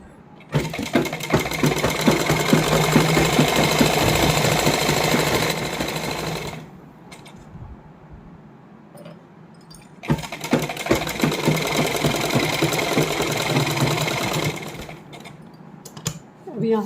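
A sewing machine runs a fitting seam through two layers of lining on a heavily hand-embellished suit, with two loud, close bursts of steady stitching separated by a quieter pause and a final short start.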